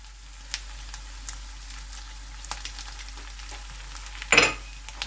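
Onion and garlic paste sauté in oil for a pork fry, a soft, even sizzle with scattered small crackles and one louder scraping stir near the end, no voices.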